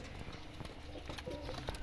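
A pigeon with a black beak, black feet and henna-coloured marks on its wings coos in low, steady, continuous tones, with no talking over it.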